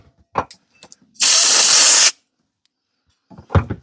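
Loud, close hiss of cleaner sprayed into a Troy-Bilt mower carburetor jet in one steady burst of about a second, with small handling clicks and taps before and after.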